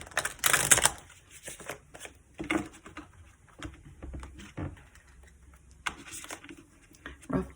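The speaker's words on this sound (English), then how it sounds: "let's shuffle this up" Tarot cards are shuffled by hand in short bursts of riffling and soft slaps, close and fairly quiet, with irregular pauses between handfuls.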